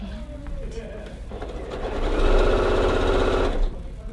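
A sewing machine stitches a quilt block, a rapid, even mechanical whir and chatter that swells loudly for over a second before stopping, with quieter handling noise around it.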